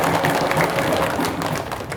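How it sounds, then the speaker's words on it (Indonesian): Audience applause at a school quiz competition with judges present, a steady moderate patter of many hands clapping for two seconds, with faint background murmur. "Boleh tepuk tangan teman-teman."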